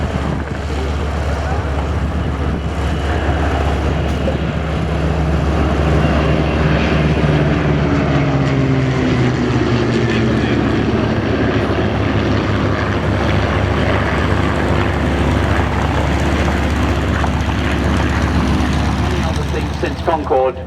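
The B-17 bomber Sally B flies past at the Shoreham RAFA air show, its propeller engines a continuous loud drone with strong wind noise and a slowly shifting pitch as it passes.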